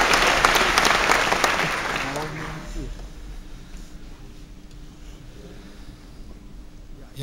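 An audience claps for a singer at a charity event, loud and dense at first, then thinning and fading to a low murmur over the last few seconds.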